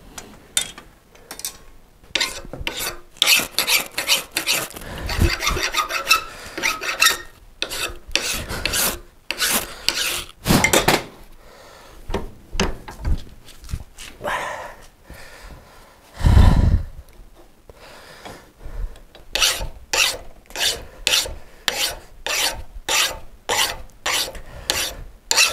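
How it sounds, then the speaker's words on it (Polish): A small hand file rasps a worn grinding stone in repeated close strokes, each a harsh scraping burst with short pauses and breaths between. "Teraz tutaj troszeczkę pilniczkiem zerwać te"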